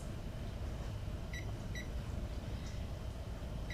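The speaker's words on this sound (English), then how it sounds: "I'm going to set the timer for 3 minutes." Two short electronic beeps from a kitchen timer being set for three minutes while poaching an egg, faint and close together over a steady background hum.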